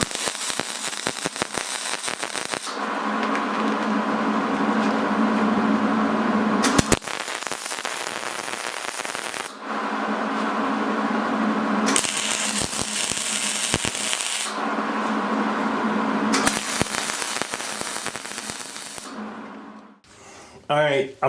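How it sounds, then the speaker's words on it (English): Crackling electric-arc bursts from tack welding a log arch tool box, held in place with magnets, come in four steady buzzing runs of a few seconds each, close and loud, separated by brief quieter gaps with faint handling noise. "I'm going to go ahead and tack this up and get it welded."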